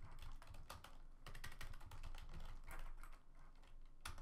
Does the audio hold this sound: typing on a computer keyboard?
yes